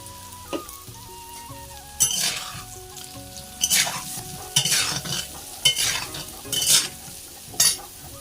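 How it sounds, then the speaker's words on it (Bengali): Potatoes fry in a pan after eggs were fried first, with a steady sizzle broken by several loud bursts of stirring and scraping at irregular intervals, close and without talk. "আর তারপরে আলুগুলো ভেজে নিচ্ছি"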